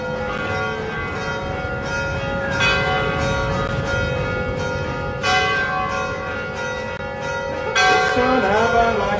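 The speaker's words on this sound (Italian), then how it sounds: "Suonava la campana." A church bell rings out with a sustained, resonant metallic tone and strikes that recur every few seconds, loud and full against steady background ambience on a TV series set.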